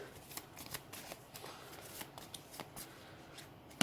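Magic: The Gathering card deck being shuffled, a run of quick soft riffling flicks and snaps, close and fairly quiet with no talk.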